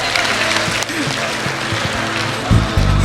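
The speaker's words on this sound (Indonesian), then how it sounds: "Berikan tepuk tangan sekali lagi buat 8 besar Suci" A studio audience at the SUCI 4 stand-up comedy show applauds loudly and continuously, with crowd noise and a voice mixed in and a louder low swell near the end.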